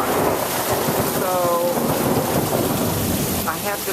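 Heavy rain pours steadily during a thunderstorm, with a continuous loud wash and low rumbling thunder underneath, and faint tonal sounds drifting in and out.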